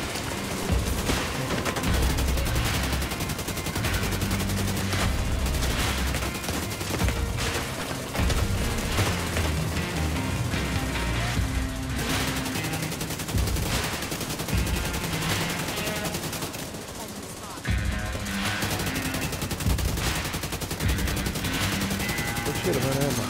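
Assault rifle fire in The Division 2 from a long-range AR build, dense and sustained near the listener, with loud bursts and explosions almost continuous, barely letting up over game sound and occasional voices.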